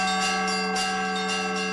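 Church bells rung by hand at a bell-ringing gathering in Tatarstan, sustained, layered metallic tones with fresh strikes swelling roughly every half second, close and fairly loud, no voices.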